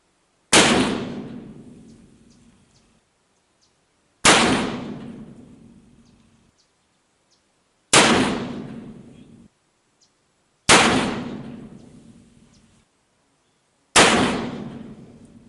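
Muzzleloading rifle firing round balls at a range, five loud separate shots spaced about three seconds apart, each with a long decaying echo.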